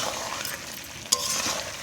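Chicken pieces being stir-fried with spices in oil in a pan, a soft steady sizzle with one brief scrape of the spatula partway through.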